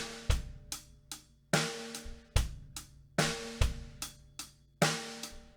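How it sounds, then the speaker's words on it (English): Rock drum kit playing a syncopated eighth-note groove, bass drum on 1 and the and of 2 with snare on 2 and 4, sharp close hits in a steady repeating pattern with cymbals ringing, no talking. "standard rock groove with the bass on 1 and 3 and the snare on 2 and 4"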